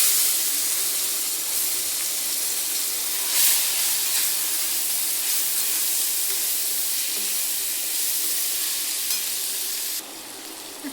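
Cluster beans hitting hot tempering oil in a Khandeshi kitchen give a loud, continuous hiss and sizzle that stays close and steady, then drops a little near the end.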